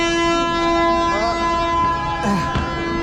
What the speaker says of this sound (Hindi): चलिए ट्रेन अभी छोड़ने भी वाला है।